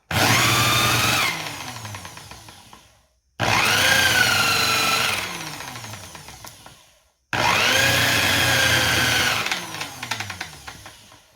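A Porter Cable Restorer sander running in three separate bursts, each a loud high whine that spins down, with a rubber eraser stick pressed against the spinning drum to clean it.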